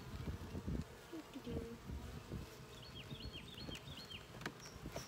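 Honey bees humming around an opened hive during an inspection, a steady low buzz with handling knocks and faint birdsong in the background.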